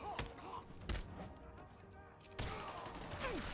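Scattered gunshots and heavy thuds in Marvel's Spider-Man Remastered, a few sharp hits spaced apart over low game ambience, then a louder burst of crackling fire near the end, close and moderately loud.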